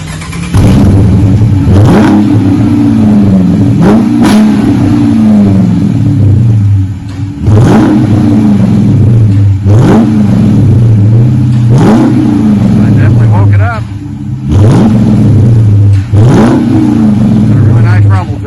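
A 2023 Dodge Charger R/T V8 exhaust with black tips revs hard again and again, each loud roar rising and falling back, with short pauses between bursts, close up.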